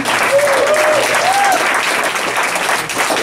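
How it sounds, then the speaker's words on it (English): Audience applause at a literary reading in a café, a steady loud burst of clapping from a crowd that carries through the whole moment, with a brief bit of talk near the start. "Another round of applause for them."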